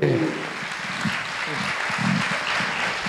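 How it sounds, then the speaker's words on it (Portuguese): A show audience gives a round of applause to a guest called onto the stage, steady dense clapping that starts at full strength and carries through, with faint voices underneath. "uma salva de palmas para ele"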